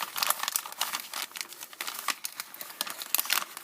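Close, continuous crinkling of plastic packaging, rustling and crackling in irregular bursts with no voices.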